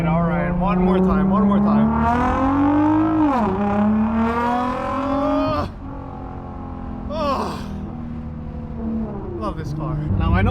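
A sports car with a carbon fiber hood drives and accelerates, heard from inside: a strong engine drone climbs in pitch, dips between gear changes, then climbs again, loud and steady throughout.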